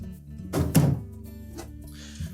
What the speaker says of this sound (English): We'll remove the old deli drawer or meat pan and discard it.